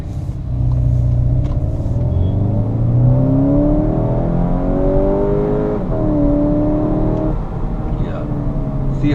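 A Skoda Octavia RS245 accelerates hard from a standstill on a clean road, its engine note climbing loud and close through the gears in a steady rising drone, with no tyre squeal.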